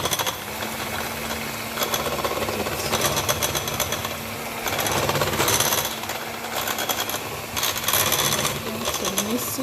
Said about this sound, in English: This is the mixer I'm using.